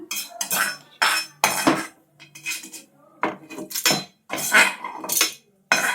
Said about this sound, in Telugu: నేను డైరెక్ట్ మిక్సీ గిన్నెలో వేసేస్తున్నాను.